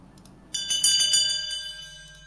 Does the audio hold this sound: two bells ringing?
yes